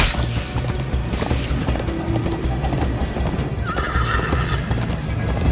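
A horse in the Minecraft Story Mode video game gallops with rapid, steady clip-clop hoofbeats and neighs briefly over a busy game soundtrack.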